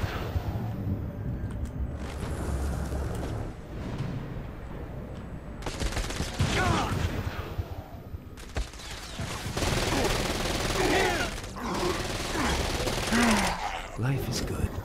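Gunfire rattles through a Saints Row: Gat Out of Hell gameplay fight in repeated bursts and sustained volleys, loud and close over busy game sound and music.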